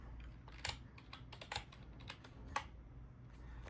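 Quiet, scattered keystrokes on a computer keyboard, a few short bursts of typing with pauses between them, heard alone.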